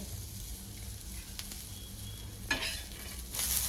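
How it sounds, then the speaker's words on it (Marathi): Raw green mango is sautéed in a hot pan, giving a steady close sizzle with occasional scraping stirs. A louder burst of frying near the end sits over a constant low background hum. "चांगलं परतून घ्यायचंय। कैरी टाकते।"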